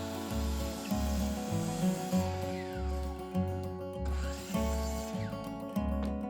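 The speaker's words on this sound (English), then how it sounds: "Now I'm going to cut some thin strips of wood to make the face frame." Thin strips of wood being cut for a face frame on a breakfast island build. A humming power tool pulses in a steady, repeating rhythm close by.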